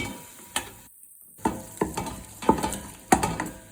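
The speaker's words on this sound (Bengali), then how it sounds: "পেঁয়াজ আরও দিব, জাস্ট একটু দিয়ে নাড়াচাড়া করি" Onions frying for bhuna khichuri, stirred with a spatula that gives sharp scrapes and knocks over a soft sizzle, with a brief dead gap early on.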